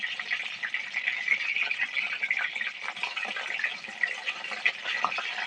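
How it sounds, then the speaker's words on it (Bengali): A pumpkin-leaf shrimp roll fries in a pan, giving a steady close hiss and sizzle with small crackling pops throughout and no talk. "হালকা করে লাল লাল করে ভেজে নেব"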